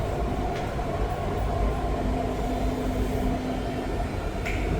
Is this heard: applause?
no